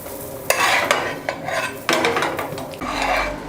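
A fluffy omelette being turned in a pan on the stove, with metallic scraping and clanking of a utensil against the pan in several distinct knocks and rubs, close and clear with no talking.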